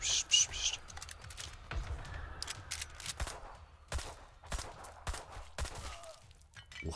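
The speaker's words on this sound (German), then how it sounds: "Ein ganz heftiger Revolver, oder? Ich glaube, das war einer dieser Mörser" Heavy mortar or revolver fire in the video game Black Skylands, a series of sharp, loud broadband blasts at irregular intervals over a low rumbling background.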